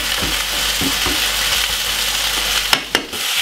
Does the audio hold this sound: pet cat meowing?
no